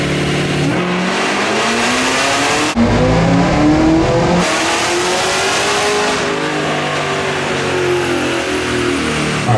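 Supercharged LS3 V8 swapped into a 1962 Chevy C10, revving hard on a dyno: a loud, sustained engine roar climbing steadily through the gears, with a short break near the three-second mark before the pull resumes and continues to build.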